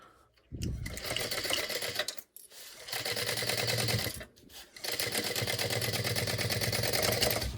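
A sewing machine stitches a quarter-inch fabric seam on a backpack, running in three fast, even whirring bursts separated by brief pauses.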